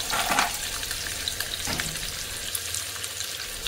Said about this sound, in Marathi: मोठा चिरलेला 1 कांदा बारीक चिरून घ्यायचा, तो तेलामध्ये गोल्डन ब्राऊन होईपर्यंत भाजून घ्यायचा